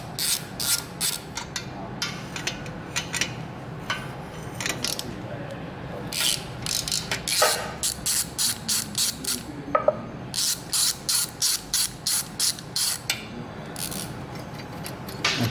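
Nuts on a Danmoto Highwayman exhaust for a 2017+ Harley-Davidson Touring Milwaukee-Eight being loosened with a ratchet, giving close, rapid bursts of clicking in steady rhythmic runs separated by short pauses.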